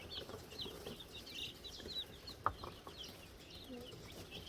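Week-old chicks of the Birkivska Barvysta breed cheep and cluck as they run about their brooder, a steady scatter of faint high peeps under soft background noise, with one sharper close chirp near the middle.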